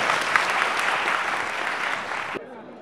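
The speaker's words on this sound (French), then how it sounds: "Applaudissez s'il vous plaît." Steady audience applause at a Guinean medical biologists' gathering, loud and continuous with a faint voice in it, stops abruptly after about two and a half seconds, leaving near silence.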